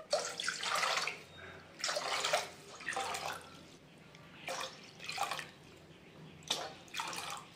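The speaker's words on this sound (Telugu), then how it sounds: "6 గ్లాసులు వాటర్ పోసుకోవాలి." Water poured from a glass into a cooking pot for chicken dum biryani rice, in several separate splashing pours with short pauses between them, close and moderately loud.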